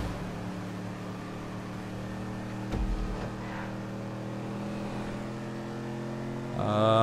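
Cars race in GTA V Online, with a continuous steady engine drone throughout, a brief thump near the middle and a louder surge at the very end.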